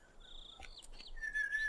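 A character in The Lord of the Rings Online whistles a few short, high gliding notes, then holds a longer steady tone, faint and thin over a quiet background.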